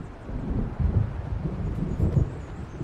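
Thunder from an approaching storm in the video game Alan Wake Remastered, a deep low rumble rolling continuously and steadily with windy noise layered on top, and no speech.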